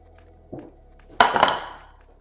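Cooked fruit being drained in a metal pot, a short clank followed by a brief wet splashing rush of liquid and light metallic knocks, close by with no voices.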